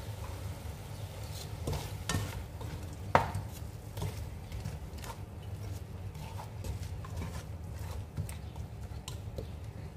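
Frozen chopped saluyot (jute leaves) stirred in a hot pan with coriander, a steady sizzle running beneath repeated scraping and tapping strokes of the spatula, one sharper knock partway through, close and moderately loud with no talking.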